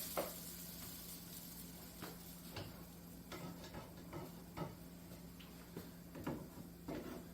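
Buttermilk pancakes frying in a pan just after being flipped give off a steady close sizzle, broken by scattered light ticks and scrapes of a utensil against the cookware.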